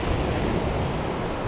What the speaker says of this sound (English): just listening to the waves crash